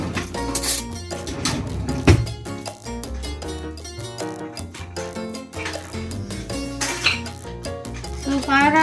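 Mung bean omelette batter frying in hot oil in a pan, with a steady crackling sizzle throughout, close up, mixed with clinks of a metal scoop and utensils against the pan.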